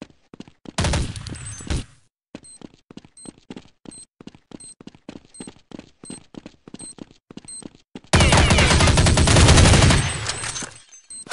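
Rapid bursts of automatic gunfire with single shots between them in Counter-Strike 1.6 on de_eldorado, loud and close, with a second long volley near the end; game-like sound effects.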